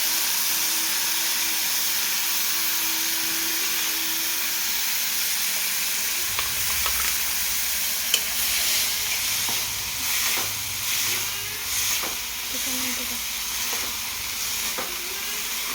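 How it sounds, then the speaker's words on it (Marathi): Sprouted legume usal frying in a pan with a steady close sizzle throughout, joined midway by repeated scraping strokes and clinks of a spoon stirring the mixture at an uneven rhythm. "त्यानंतर उसळ पूर्ण फ्राय करून घ्यायची"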